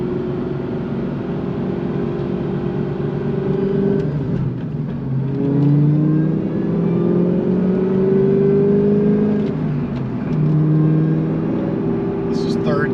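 An 800HP Cobra engine pulling in first gear at about 2,500 RPM and 20 mph, a steady low drone from inside the cabin with rising and falling revs, while someone talks over it.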